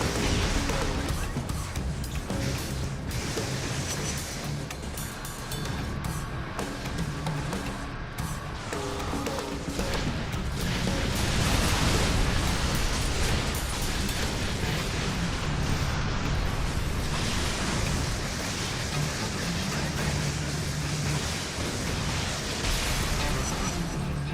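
Rockets burst in the inFAMOUS video game, played on original hardware, making a continuous loud barrage of booming, crashing blasts and rumble that barely lets up for over twenty seconds.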